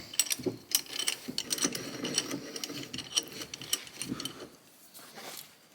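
Lubricated steel screw handle threaded into a bench vise during restoration, giving soft, irregular metallic clicks and light ratcheting scrapes close by, with no one speaking.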